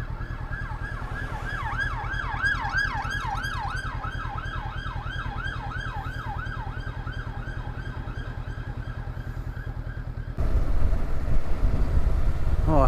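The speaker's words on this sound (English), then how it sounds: "oh, a siren." An emergency vehicle siren wails in a fast repeating up-and-down sweep as it passes on a road near Mildenhall off the A11, loud and close, then cuts off abruptly into heavy vehicle and road rumble.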